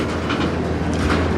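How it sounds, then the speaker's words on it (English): A CN night train slowly enters a tunnel in Sarnia, Ontario, Canada, giving a loud, steady rumble of rolling railcars with soft clickety-clack beats and no talking. "That's by far the slowest I've ever seen a train go into the tunnel."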